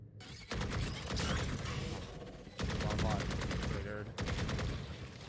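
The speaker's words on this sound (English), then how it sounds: "There's potential for wall bangs there on Inferno." Rapid bursts of gunfire in Valorant on the map Inferno during a tournament match: wall bang shots in three loud, sustained volleys, with a commentator talking over the firing.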